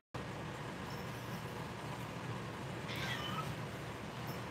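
A house cat meows once, loud and close, as it begs for attention at someone's feet indoors, over a steady background hiss.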